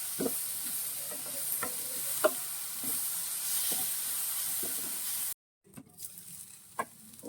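Ivy gourd (kovakka) fries with a steady sizzle in a pan while being stirred, with repeated scraping and tapping strokes at a close distance. The sizzle briefly cuts out, then returns more quietly with a few more stirs.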